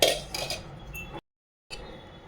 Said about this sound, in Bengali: ঘি দিয়ে আর কর্নফ্লোর দিয়ে ভালো করে মিক্স করে নিচ্ছি